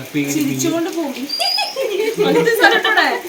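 A bird coos and calls nearby with a short rising whistle, while people talk over it.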